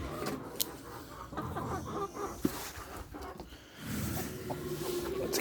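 Chickens and a rooster on a ranch, scattered soft clucks and rustling at close range with no talk, a louder stretch of activity near the end.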